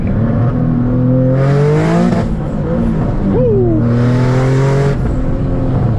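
A single-turbo Nissan 370Z Nismo drops a gear and pulls hard, its engine note climbing in two loud rising sweeps close by, with a brief excited shout from inside.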